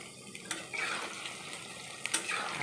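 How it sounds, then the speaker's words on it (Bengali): Paneer cubes fry in hot oil in a kadai, a continuous bubbling sizzle with a few soft clinks as pieces are added, close up and alone without any talk. "পনিরগুলো আমি ভেজে নিচ্ছি।"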